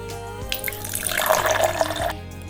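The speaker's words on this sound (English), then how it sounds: "Look, the water is flowing into this mineral bottle." Water pours and splashes into a cut mineral bottle in a homemade fertigation setup, a close, continuous trickling that swells in the middle and breaks off near the end.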